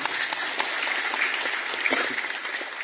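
An audience at a foundation chairman's welcome speech claps steadily, a dense patter of hands filling the room at moderate loudness for a few seconds with no voices over it.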